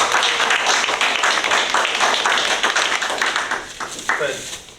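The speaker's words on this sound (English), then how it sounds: "Let's have a loud clap that Sharon's president starting next week." Loud applause from a Rotary club meeting audience, a dense burst of many hands clapping together that holds strong for several seconds, then thins and fades near the end.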